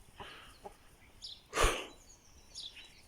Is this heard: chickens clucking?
yes